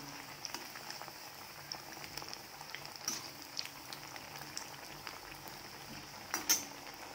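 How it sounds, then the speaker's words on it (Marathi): Coriander vadi fry in oil in a pan, a faint, continuous bubbling crackle with scattered light pops and a louder spatter near the end, heard without speech. "अशाच प्रकारे मी आता वड्या तळून घेणार आहे"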